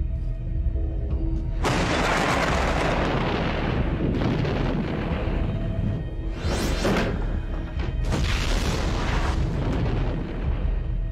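Artillery shells exploding in a war zone, heavy booming blasts rolling one after another, loud and close with rumbling aftermath between bursts.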